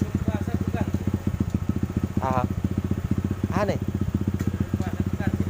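Kawasaki KLX motorcycle with an ignition fault and a suspected charging problem idling close by. The exhaust pulses come in a steady, rapid rhythm with slight irregular stumbles, and someone talks briefly over them.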